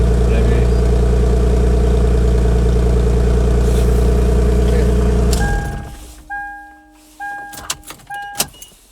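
A Lexus IS300 with its exhaust fitted runs loud and close with a steady rumbling idle, then the engine shuts off abruptly, leaving a few short electronic chimes and faint clicks in the quiet.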